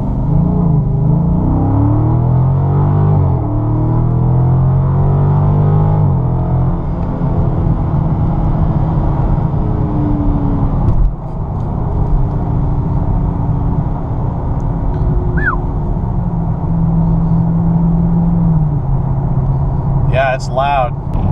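A 2016 Dodge Charger R/T Scat Pack 392 roars at Texas Motor Speedway, its loud V8 engine rising and falling in pitch over a constant heavy drone, as heard from inside the car.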